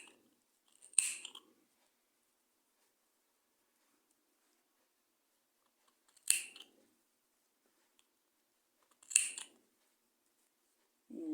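Wool yarn being cut with scissors: three crisp, close snips spaced several seconds apart in an otherwise quiet room.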